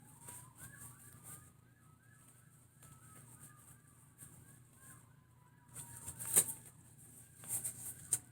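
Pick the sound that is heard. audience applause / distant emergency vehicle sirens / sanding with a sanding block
distant emergency vehicle sirens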